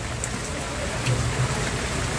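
Heavy rain falls in a dense steady roar, loud and close, with a brief surge in intensity midway.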